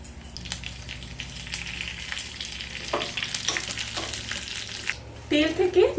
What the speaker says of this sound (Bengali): তেলের মধ্যে দিয়ে দেব দু চামচ পাঁচ ফোড়ন আর দিয়ে দেব দুটো তেজপাতা